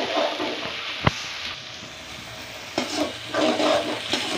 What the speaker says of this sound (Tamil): வெங்காய அப்படியே வதக்கிக்கலாம்.